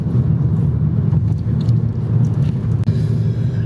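A car cruising slowly on the Ahmedabad–Dholera expressway gives a steady low road rumble and engine drone from inside the cabin, continuous and fairly loud, with a brief dip near the end.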